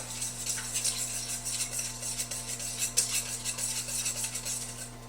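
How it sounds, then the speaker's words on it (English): A whisk scraping and clinking steadily against a pot as a candy mixture is stirred, continuous light metallic ticks and swishes close up over a low steady hum, with no talking. "We're going to whisk this together"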